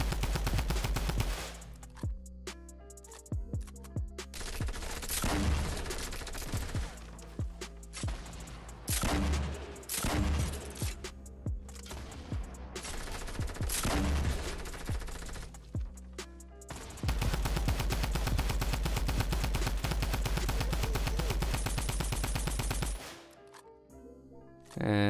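Rapid drum gun bursts in Fortnite, loud and close, arriving in repeated rattling volleys with short pauses, then one long sustained stretch of continuous fire before it stops.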